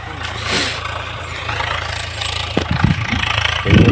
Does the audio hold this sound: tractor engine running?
yes